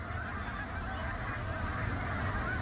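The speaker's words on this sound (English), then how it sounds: "The refuge was established to protect the Pacific black brant, a small coastal goose whose entire population stops at the refuge during migration." A flock of Pacific black brant, small coastal geese, honk at an Alaskan national wildlife refuge during migration, making a dense, continuous chorus of overlapping calls with no talk.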